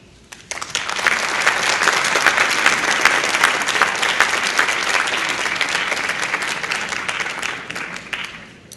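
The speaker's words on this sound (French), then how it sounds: "Encore une fois, pour nos applaudissements nourris" Sustained, full applause from an audience at a formal government ceremony for a minister, rising quickly and holding steady and dense for several seconds before tapering off, with no talk over it.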